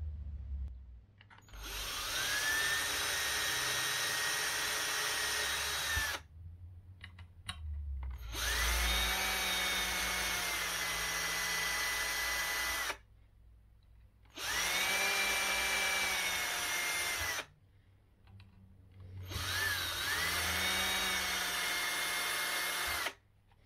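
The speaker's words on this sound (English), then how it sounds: "I just want to drill a little pilot hole for the screws." A drill with a 1.5mm bit boring pilot holes into hardwood for a cigar box guitar, running in four sustained whining bursts of several seconds each, separated by short pauses, close and clear.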